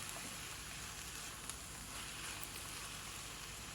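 Steady, quiet sizzling of ivy gourd pieces frying in a pan, a continuous hiss with faint crackles and no break, heard alone.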